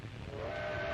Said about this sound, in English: The train rattles across desolate country the Italians will have to fight across.